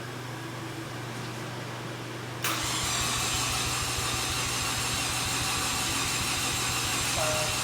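Mazda RX-7 FD rotary engine, freshly rebuilt, cranking over on the starter to build oil pressure before its first start: a quiet lead-in, then a sudden loud, steady rhythmic churning that continues without firing.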